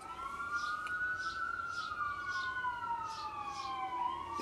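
Emergency vehicle siren outside at dusk, a wailing tone rising and falling in a long sweep, heard faint and at a distance over low background hum.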